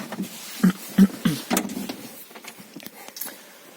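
A Daewoo Lanos 1.5 fuel pump primes after six months idle, a close electric whir inside the car, preceded by a few short knocks and clunks.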